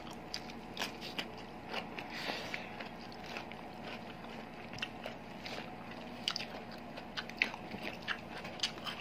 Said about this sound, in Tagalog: Ang sarap ng pepino, ang lutong.